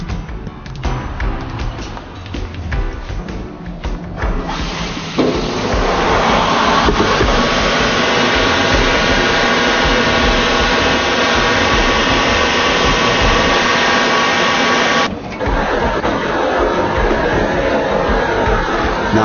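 A grinding machine flattens the surface of a crystal glass piece, a continuous close whirring drone that grows louder after a few seconds, dips briefly near the end, then carries on.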